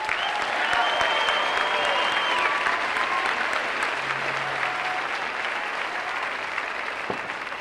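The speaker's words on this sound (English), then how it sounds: "Will we please applaud those staff who have worked so diligently?" A large crowd at a university commencement ceremony claps for the event staff, a dense, sustained wash of applause filling a big hall and easing off slightly toward the end.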